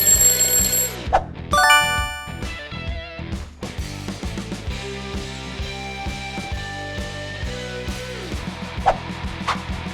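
Alarm clock ringing among a rapid sequence of different alarm tones, bells and beeping chimes, loud and continuous, changing character every second or two.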